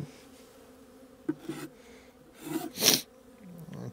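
Honey bees buzzing in a nuc hive box during January work, a low faint drone broken by a few short louder rustles and bursts, close by.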